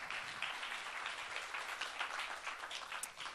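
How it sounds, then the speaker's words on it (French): A conference audience applauds a Renault Mobility speaker: continuous faint, distant clapping from a room full of people, steady throughout. "déjà on peut l'applaudir"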